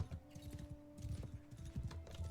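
Horse hooves clip-clopping in the Bannerlord video game, a steady rhythmic trot of hoofbeats close by, moderately loud over a faint steady tonal hum, with no voices.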